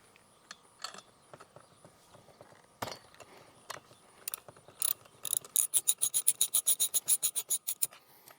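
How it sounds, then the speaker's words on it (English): A 15mm socket works the spark arrestor out of a Stihl FS38/FS45/FS55 trimmer muffler, giving scattered metallic clicks and scrapes that build into a fast, steady run of ratcheting clicks near the end, close and fairly quiet. "This is a 15mm socket to take this out."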